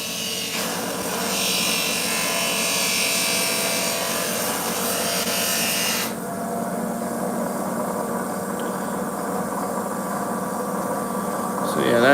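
A gemstone grinding and polishing machine runs with a steady, loud rasping whir that drops in brightness partway through, continuing alone without talk.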